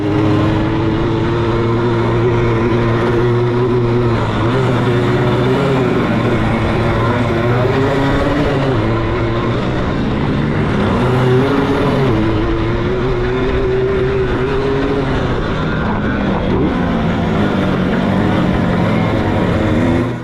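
Loud, close motorbike engine during a Le Mans-start race in New Zealand, held at high revs with rising and falling pitch through gear changes and throttle shifts, droning continuously with strong wind rush.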